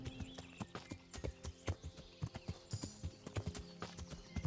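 Horse hooves clip-clop at a steady walking rhythm in the medieval video game Kingdom Come: Deliverance, close and distinct, with a brief whinny-like sound from the horse partway through.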